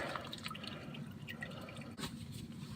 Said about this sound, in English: Oil's coming out. I'm just gonna let it drain a bit here.